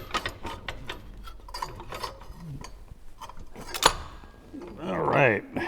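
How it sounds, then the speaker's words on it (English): A ratchet wrench turns while loosening bolts on a car during repair work, heard as a quick burst of clicking near the end after scattered clanks and clatter of tools. There is a little background talk. "Re-loosen some bolts here, save on time. All right, got all the bolts loose."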